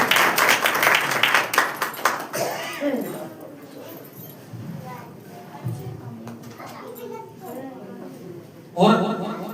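A church congregation at a Hindi-language worship service claps loudly together in a rapid burst at the start, then fades as a voice speaks, with another short swell of sound near the end.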